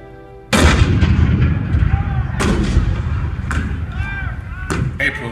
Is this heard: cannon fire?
yes